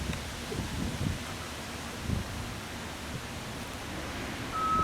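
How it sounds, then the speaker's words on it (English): Wind buffets a microphone outdoors on a blustery graduation day, a steady rumbling rush with a few heavier gusts and no voices. "Yes, very windy today."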